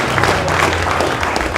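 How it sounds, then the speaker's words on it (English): An audience applauds Startup Tech Valley at an indoor tech startup meetup, the clapping steady and fairly loud throughout, spread across the room with a low murmur underneath. "a quick round of applause for Startup Tech Valley"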